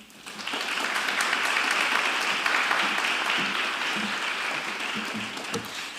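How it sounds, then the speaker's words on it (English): An audience at a speech competition applauds to welcome the evening's host, a sustained burst of clapping that swells quickly and carries on steadily before tapering slightly, with no talk. "So let's give a warm round of applause and welcome your MC for tonight, Caitlyn King."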